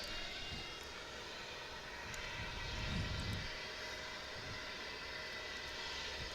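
Low jet aircraft rumble at DFW airport during early morning arrivals, a steady broad roar that swells around the middle as a plane nears the runway, with no talking.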